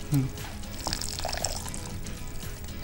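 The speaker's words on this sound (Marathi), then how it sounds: "याच्यामध्ये पाणी ॲड कर टाकून" Water is poured into a cooking pot holding rice, a soft, fairly quiet splashing and trickling heard beneath people talking in a kitchen.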